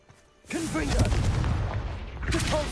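The Confringo spell in Hogwarts Legacy sets off a sustained, booming blast with a rumbling roar. It starts after a short quiet lead-in and lasts through the clip, with whooshing spell effects layered over it.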